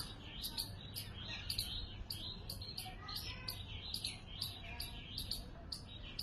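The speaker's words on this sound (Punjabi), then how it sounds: "ਦੇਖੋ ਕਾਟੋ ਬੋਲਦੀ ਦੇਖੋ ਆਵਾਜ਼ ਕਿੰਨੀ ਤੇਜ਼ ਕੱਢਦੀ ਆ" A squirrel gives loud, sharp, high chirping calls, repeated in a quick steady rhythm close by, with a low hum underneath.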